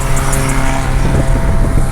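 Heavy road traffic backed up behind a vehicle. A dense, steady low rumble of engines and tires runs close and loud throughout.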